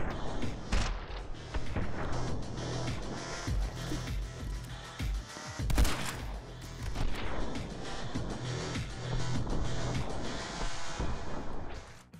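Rapid gunfire and shotgun blasts from the action game My Friend Pedro, dense bursts of shots and impacts layered over game music, loud and continuous with no voices.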